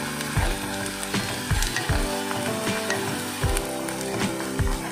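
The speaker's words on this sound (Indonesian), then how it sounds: "bumbunya ini memang ditumis sampai agak setengah kering tapi tidak kering" Spice paste sautéed in a pan until half dry sizzles continuously up close, punctuated by regular low thumps of a spatula stirring and scraping against the pan.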